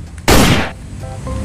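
A blue toy pistol fires one loud, electronic-sounding gunshot blast that rings out and decays quickly, followed by faint tonal beeps.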